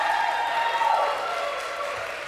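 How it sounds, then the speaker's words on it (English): An audience applauds the song leader at a live Thursday night gathering, a moderate wash of clapping that gradually thins and fades. "give him a big round of applause"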